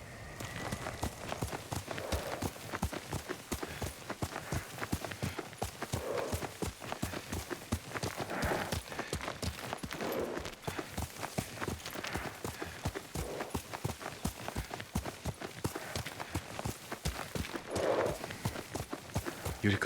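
Horse hooves clip-clopping in the video game Ghost of Tsushima, a steady rapid rhythm of hoofbeats running throughout, fairly close and continuous, with faint background ambience and no clear talk.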